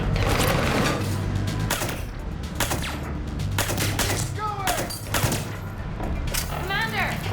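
Gunfire erupting in the Mass Effect Legendary Edition, repeated shots and impacts cracking loud and close amid combat noise, with game characters shouting over the firefight.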